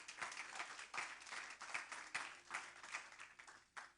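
A church congregation claps in rhythm, quiet and distant, with sharp, evenly spaced beats and no voices.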